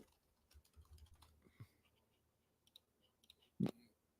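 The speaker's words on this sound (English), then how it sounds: "Trying to type as fast as I can." Quick bursts of light key clicks from a computer keyboard, faint and close, with a louder clack near the end and no talking.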